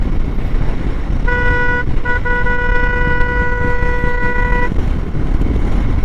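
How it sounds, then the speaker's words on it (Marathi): Sustained car horn blasts on a motorcycle ride along the Mumbai–Goa road toward Kolhapur, one long honk held for a few seconds with a brief break, loud over steady road and engine noise. "एकसारखा हॉर्न द्यावा लागतो यांना,"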